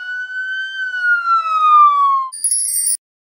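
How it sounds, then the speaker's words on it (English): A police car siren gives a single smooth wail gliding slowly downward, clear and close, ending in a short bright chime before cutting to silence. "Police car."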